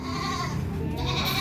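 A pregnant Doro goat, about four months along, bleats loudly and continuously at close range, one long, steady, wavering call with no pauses.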